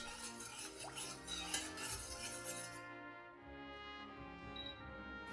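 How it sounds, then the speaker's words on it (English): Sugar, vinegar and salt brine stirred in a pot, with a spoon clinking and scraping against the sides in a steady, close rhythm that quiets slightly partway through. "Then stir well and bring the mixture to a boil."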